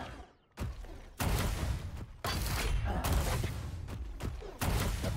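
Rapid bursts of rocket fire in a competitive video game duel, loud and repeated in several dense volleys with short gaps, no talk over them.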